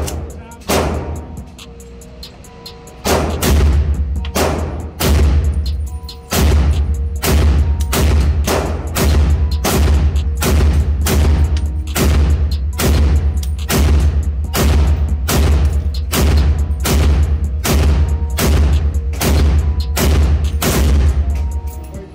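Rifle from I.O. Inc fired at a shooting range, a long fast string of loud close cracks in steady rhythm with a booming low-end echo, continuing for over twenty seconds with a brief gap early on.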